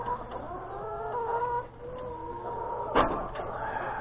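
Chickens clucking in a backyard coop, a steady mix of overlapping soft clucks and murmurs at close range, with a sharp clatter partway through and faint background noise.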